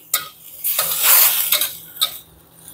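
Beef and broccoli stirred in a pan with a utensil: close scraping and clattering strokes in irregular bursts over a soft sizzle, no voices.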